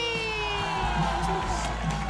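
A theatre audience at an open-air hill show cheers and whoops for a performer, a dense, lively crowd roar that continues steadily with excited shouts rising over a background tone.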